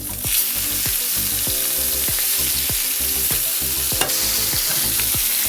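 A cheeseburger patty sizzles loudly and steadily in a hot pan after being flipped, with a continuous hiss of frying punctuated by regular scraping and clinking strokes of a spatula.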